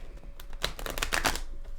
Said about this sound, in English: That's enough shuffling.